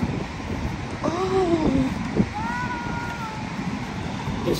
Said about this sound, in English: The wind is so... Grabe, maangin. Oo nga, so windy.